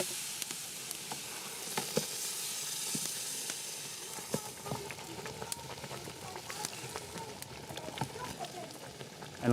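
Soft, continuous sizzling of cassava leaves frying in pork fat, crackling faintly throughout with a few small pops.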